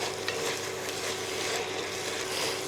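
Browning beef mince with dried thyme is stirred in a pan, giving a steady low sizzle with soft scraping and shuffling close by and no talking.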